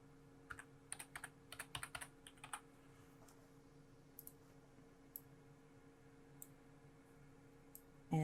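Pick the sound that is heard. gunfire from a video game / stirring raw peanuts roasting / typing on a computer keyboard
typing on a computer keyboard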